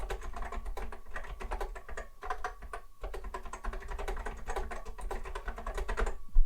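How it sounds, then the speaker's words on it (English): Rapid, uneven clatter of keystrokes on a vintage Macintosh Plus keyboard with a US standard layout, close and steady throughout with a few brief pauses and a heavier thunk at the end. "Oh, that's so satisfying to type on."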